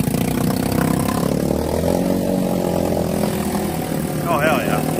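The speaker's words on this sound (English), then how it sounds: "Mini Jeep. Right now. We're going through the mud holes out here." A 125cc mini jeep engine drones and revs steadily throughout, close and loud, with a wet churning undertone as the vehicle pushes through mud.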